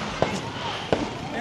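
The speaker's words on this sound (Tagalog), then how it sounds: "May fireworks din, oh." Fireworks bursting in the evening at a Christmas park at Lakeshore, Pampanga, two dull distant pops about a second apart over a busy outdoor background.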